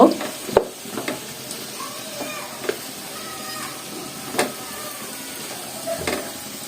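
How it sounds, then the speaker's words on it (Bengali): Cauliflower, potato and eggplant being stirred and fried in spices in a pan, a soft crackling sizzle with repeated clinks and scrapes of a spoon, fairly close and without speech. "এখন আমি এই যে এর মধ্যে ফুলকপি, আলু আর হচ্ছে বেগুন দিয়ে দেব। এগুলো দিয়ে ভালোভাবে একটু মশলার সাথে সব কষায় নেব।"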